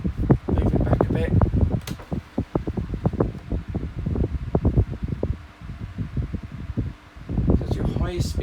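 A 1990s Briticent CED 12-inch desk fan runs at its highest speed, its airflow buffeting the microphone in rough, gusty bursts that rise and fall continuously.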